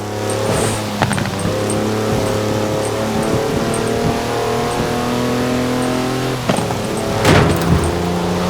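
A diesel pickup truck engine in Forza Horizon 4 hums steadily at close range, with a few sharp knocks and a brief louder rev near the end.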